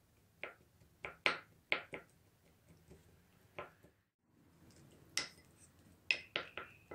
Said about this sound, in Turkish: ben şu anda kaşıkla biraz ezerek daha da minitiyorum